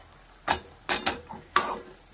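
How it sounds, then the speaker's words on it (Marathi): Potato being sautéed in a pan, a spoon knocking and scraping against the metal in four or five short, sharp clinks spaced irregularly, close and fairly quiet. "प्रथम बटाटा परतून घ्यायचा आहे"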